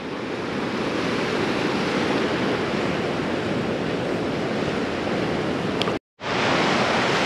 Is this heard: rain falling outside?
no